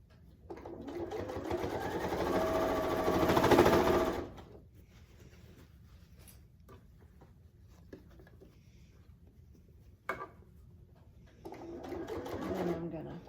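A sewing machine runs loud and close for a few seconds while stitching a quilt-as-you-go Christmas stocking, then falls quiet. Faint handling noises follow, and a second, shorter run of stitching comes near the end.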